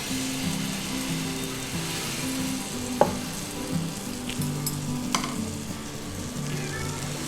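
Besan roti batter sizzles on a pan greased with desi ghee, a steady close hiss throughout with two brief sharp clicks partway through and no voices.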